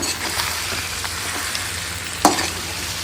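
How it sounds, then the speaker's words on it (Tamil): Duck meat is stirred and fried in oil with masala, tomato and onion, giving a loud, steady sizzle with scraping stirs and one sharp clatter partway through. "நம்ம எண்ணெயில் போட்ட அந்த மசாலா, தக்காளி, வெங்காயம் இதோட நல்லா மிக்ஸ் பண்ணுறோம்"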